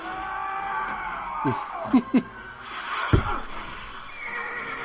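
A horse neighs as a sound effect in a Star Trek episode, a few short whinnying bursts rising over a busy, steady background of other effects and ambience.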